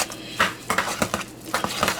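A utensil stirs food in a pan with quick, irregular scrapes and knocks, close and moderately loud, continuing steadily for a couple of seconds with no talking.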